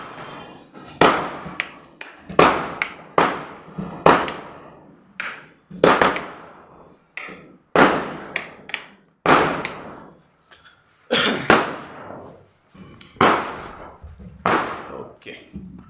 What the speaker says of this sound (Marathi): आणि बाहेर फटाके पण फुटणं चालू आहे आता.